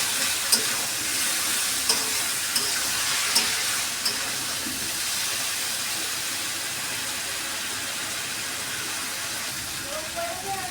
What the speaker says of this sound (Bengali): আর দেবো একটু জল দিয়ে এখন একটু কষিয়ে নেবো সবজিটাকে